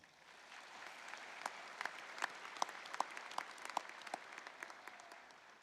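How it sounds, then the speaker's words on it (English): Audience applause at a university commencement ceremony, moderately loud and steady, with scattered sharper individual claps standing out across the whole stretch and no talk. "Let's give them another round of applause."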